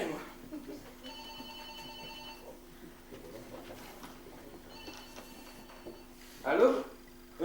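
A telephone rings in two separate bursts of electronic trilling, each lasting over a second, with a quiet room between them and a brief voice near the end.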